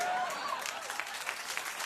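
Studio audience on a late-night talk show breaks into steady applause, a dense wash of clapping that holds at moderate level for the whole stretch.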